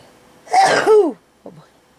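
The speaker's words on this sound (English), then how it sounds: "I gotta sneeze." A single person's sneeze, loud and close, a sharp two-part burst followed by a brief faint sound.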